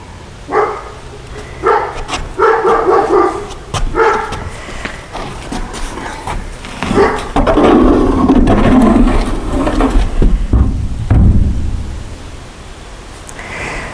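A dog in a fenced yard beside a log-wall house under construction barks in a few scattered bursts, mostly faint and distant beneath wind-like noise and nearby knocking.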